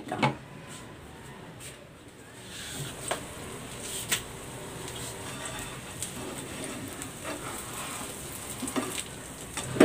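Steady soft sizzling of an eggplant frittata egg mixture cooking in a covered pan, with occasional faint clicks and ticks over a continuous frying hiss, and no voices.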